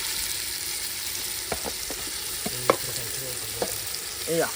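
Steady frying hiss of marinated biryani chicken in a pan with onions, occasional scraping and stirring clicks, no voices, close and moderately loud.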